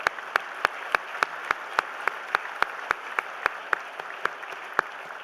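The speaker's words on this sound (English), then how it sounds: "Join me in giving these leaders a round of applause" Faint, evenly spaced claps fill a chamber of commerce annual meeting as the audience applauds the board leaders, the steady rhythm running alone without speech.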